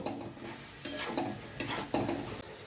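A spoon stirs mustard, poppy seed and green chili paste in a frying pan for ridge gourd curry, giving a close sizzle with repeated scraping strokes, about four distinct swishes over a few seconds.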